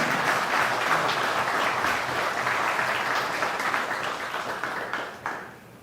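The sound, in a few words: audience applauding a serviceman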